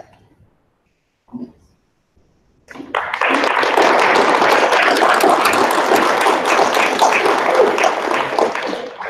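Audience applause at a district spelling bee, a dense, steady sustained clapping from a crowd in a hall after a moment of near silence with a brief tap.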